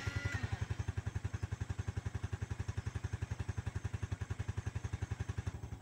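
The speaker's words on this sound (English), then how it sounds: "The engine is running." A motorcycle engine idles steadily after starting, its even low thumping pulses repeating close by for several seconds with a faint rattle above, no talk over it.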